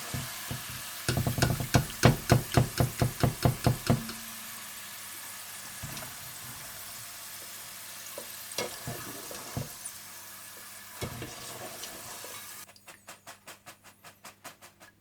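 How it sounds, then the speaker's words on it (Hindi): Potatoes frying in hot oil in a pan for an eggplant and potato salad, a steady close sizzle with rhythmic bursts of clattering stirring and scraping, and a brief faster tapping near the end. "आप आलूओं को भी फ्राई करके निकाल लें"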